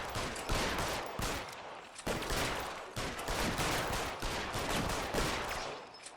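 Rapid gunfire in the video game LA Noire, aimed at large sign letters, loud sustained bursts of shots repeating in a steady rhythm over about six seconds.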